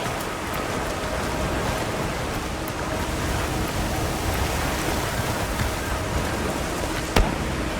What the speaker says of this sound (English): A downpour like this could have an effect on the monsters.